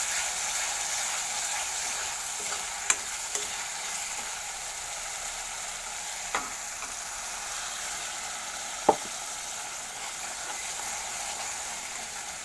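Masala and softened tomato fry in a pan for a jackfruit curry, a steady bright sizzle running throughout with a few sharp spoon clicks against the pan.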